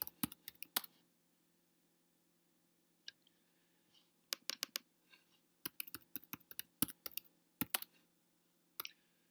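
A title being typed on a computer keyboard, with quick bursts of close, crisp key clicks separated by short pauses, fairly faint over a quiet room hum and with no talking.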